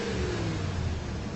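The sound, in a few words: pickup truck engine revving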